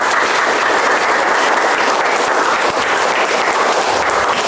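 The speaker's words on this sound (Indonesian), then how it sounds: "Baik, tepuk tangan semuanya." A room full of people at a village drug-awareness talk in Indonesia claps loudly and steadily for several seconds, a dense, continuous applause with no voices.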